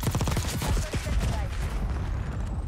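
Rapid bursts of SMG gunfire in the Black Ops 6 video game, loud and continuous with overlapping shots and booming impacts, with a voice faintly mixed in.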